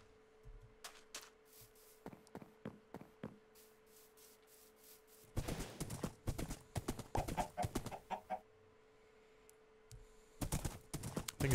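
Minecraft horse hooves walking in the video game, a run of crisp clip-clop steps, sparse at first and then a denser burst of rapid hoofbeats, close and clear with no talk over them.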